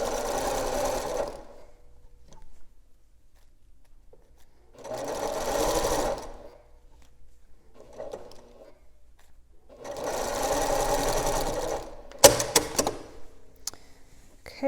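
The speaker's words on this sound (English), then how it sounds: "okay, so I sewed end to end like that" A home sewing machine stitches quilt binding end to end in three steady bursts of whirring, each a second or two long, separated by quiet pauses, with a few sharp clicks and handling sounds near the end.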